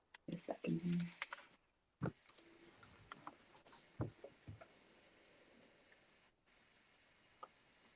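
Computer keyboard typing during an online fantasy hockey playoff draft: irregular soft clicks and taps, denser at first and then sparser, with voices faintly present in the background.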